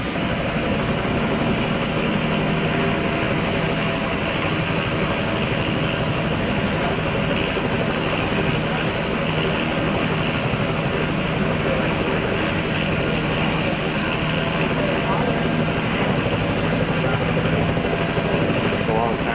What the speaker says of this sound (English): It's a long time to get that rotor speed up, I guess.